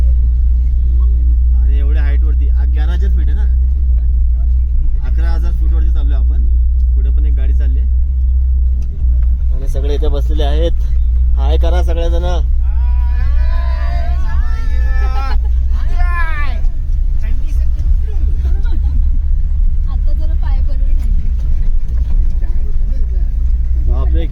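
A Gypsy jeep grinds along a muddy mountain road, its low engine rumble constant and loud while several people talk and exclaim over it inside the vehicle.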